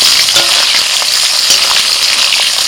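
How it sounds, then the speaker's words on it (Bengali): Potatoes frying in hot oil in a wok, added after a tempering of bay leaf, dried red chilli and five-spice. A loud, continuous close-up sizzle runs throughout with no voices. "ফোড়নটা হয়ে গেলে প্রথমে দিচ্ছি আলু।"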